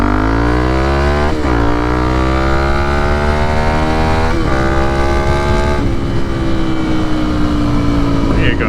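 Honda CRF300L motorcycle with an aftermarket exhaust revving hard and close, three sharp throttle blips whose pitch sweeps up then falls back, over a steady loud idle rumble.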